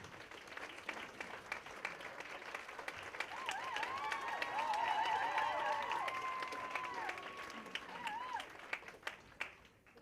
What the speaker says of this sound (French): Donc, on l'applaudit haut et fort, s'il vous plaît.